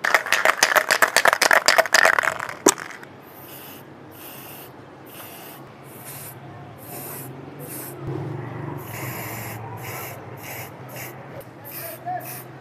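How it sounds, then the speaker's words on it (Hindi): Bursts of spray paint hiss over freshly welded metal hooks, following a brief rapid rattling at the start; the short sprays repeat with gaps, close and moderately loud. "अब इस पर ज़रा मैं पेंट मार देता हूँ ताकि ये जंग वगैरह से महफूज रहे"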